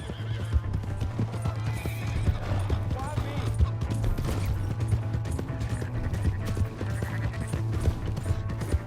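Horse hooves clip-clop steadily through a game scene in Red Dead Redemption 2, with a horse whinnying and mechanical clatter under a loud, busy mix where voices also shout.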